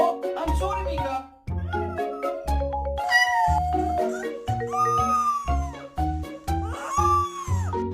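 A cat meows repeatedly in long, drawn-out, wailing cries, close and loud, with short pauses between calls and a quiet voice in the background.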